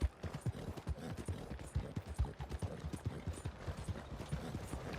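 Horse hooves clip-clop in a steady, close rhythm as a horse moves along in Red Dead Redemption 2, loud and continuous with no talk over it.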